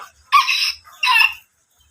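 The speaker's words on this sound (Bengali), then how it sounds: "আমার তো পছন্দের ভিতরে একটা মুরগি হচ্ছে খুবই পছন্দ সেটা হচ্ছে ব্ল্যাক সুলতান" A Black Sultan chicken gives two loud, close bursts of clucking, crow-like calls, each lasting under half a second and separated by a short pause, with quiet between them.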